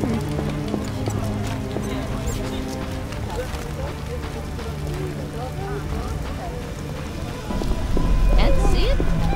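Steady rain patters on surfaces in The Witcher video game, a continuous hiss of drops that grows heavier toward the end, with a voice speaking over it.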